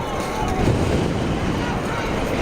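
Wind blows across an outdoor boys' high school soccer state championship game at night, a loud, steady rushing roar buffeting the microphone with slight swells throughout.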